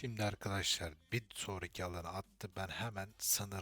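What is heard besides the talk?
No distinct noise like a dog, phone or traffic.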